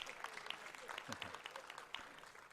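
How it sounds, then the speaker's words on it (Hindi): Audience applause breaks out in a hall at a parliamentary-affairs address, steady dense clapping throughout, moderately loud with a faint voice mixed in. "ताली बजा के धन्यवाद दे सकते हो आप।"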